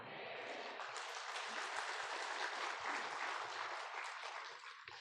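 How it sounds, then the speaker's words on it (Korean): A church congregation applauds at a New Year's Eve service, a dense, steady wash of many hands clapping for about five seconds, fading slightly at the end. "박수를 쳐줄까 안 쳐줄까 한참 생각했는데 쳐주셔서 너무 감사해요"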